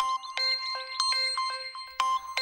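A phone rings with an incoming call in a Tamil comedy serial, its bright electronic ringtone repeating in quick, chiming pulses, loud and close, with no talk over it.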